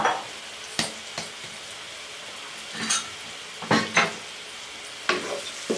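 Boiled egg pieces are stirred into a cooked curry masala for a salan, giving soft scraping spoon strokes against the pot that come in separate bursts over a low, steady background sizzle.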